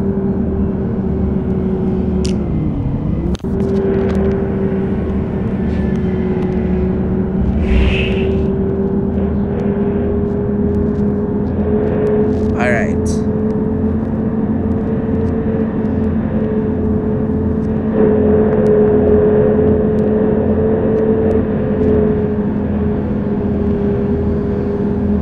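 A bus drives along in the Bus Simulator Ultimate video game, its engine humming at a steady pitch that shifts slightly as it moves. A few brief clicks and chimes from the game cut in over the hum.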